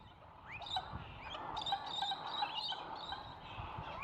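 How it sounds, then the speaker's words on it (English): Assorted birds call and chirp in a small outback park in Jericho, north Queensland, with several overlapping calls and trills at moderate distance over a steady background. "A lot of bird life."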